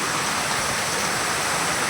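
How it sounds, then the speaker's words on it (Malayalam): A heavy downpour falls straight down onto a farm plot, a close, dense and unbroken rushing roar of water throughout, with no talking. "അതാ മഴ എന്നാൽ അത്രയും നല്ല മഴ"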